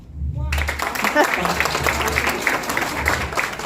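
After a brief quiet start, an audience breaks into sustained applause, with a voice briefly audible near the beginning.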